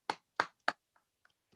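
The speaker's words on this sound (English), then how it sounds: "how about a giant digital hand clap for Adeeb Khan" Three sharp, close hand claps in quick even succession for the finalists, followed by a few faint scattered taps.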